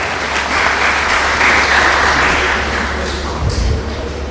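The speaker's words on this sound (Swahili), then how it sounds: "Ladies and gentlemen, put your hands together as I welcome the County Commissioner, Bwana Kitio." A crowd at a 2021 CVE festival gathering claps to welcome the County Commissioner, a loud, sustained round of applause that swells and then tapers, with a few voices mixed in.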